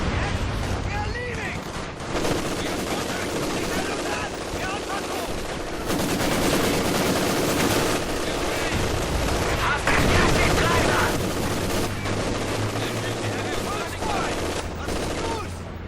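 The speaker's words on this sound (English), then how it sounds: "I wanted my MGs to fire right away." Sustained machine-gun fire and battlefield gunfire in Company of Heroes 2, a steady dense clatter of bursts and booms running throughout at loud level, with voices mixed in.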